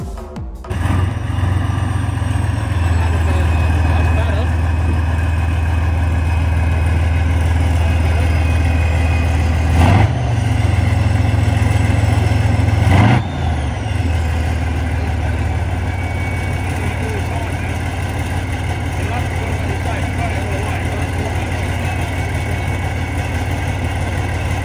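A T-72 tank's diesel engine runs steadily in smoke mode, a loud, continuous low rumble with two brief surges in revs partway through, no voices over it.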